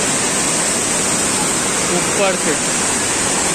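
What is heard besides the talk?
Tirathgarh waterfall rushing water, Jagdalpur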